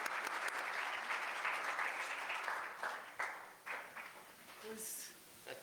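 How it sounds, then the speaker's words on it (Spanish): An audience at a Spanish-language tax course panel applauds for the speaker, a dense wash of clapping that holds steadily, then thins and fades into scattered claps and a brief voice near the end. "un aplauso"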